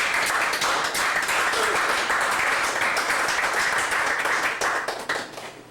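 Audience applause at a club concert at Club Passim, a steady roomful of clapping hands, loud and sustained, fading out near the end.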